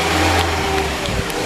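A Porsche 997 Turbo engine revs loudly and close by, a steady low mechanical roar with a brief rise in pitch about a second in, and no voices.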